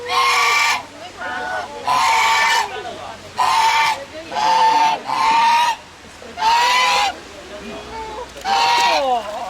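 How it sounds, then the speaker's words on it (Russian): Geese honk loudly in repeated bursts, about eight raucous calls in a steady rhythm, close by with short pauses between them. "Ух ты! Это ж гуси."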